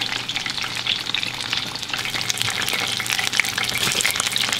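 Crunchy crispy fish frying in a pan, a steady loud sizzle and crackle of hot oil throughout, close and continuous with no one talking.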